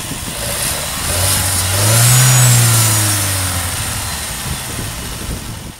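A Mercedes-Benz C180 engine starts and revs up once, the pitch rising and falling back to a steady idle, loud and close.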